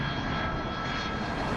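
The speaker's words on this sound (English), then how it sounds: "The crew is flying an MD-80." Steady broadband roar of an MD-80 jet airliner's two rear-mounted engines at cruise altitude, a constant dense rumble with no voices.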